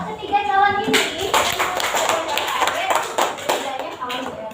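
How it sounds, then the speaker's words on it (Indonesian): A fifth-grade elementary classroom of children claps together in a dense, sustained burst for several seconds, starting right after a teacher's brief spoken line. "Coba tepuk tangan untuk ketiga calon ini."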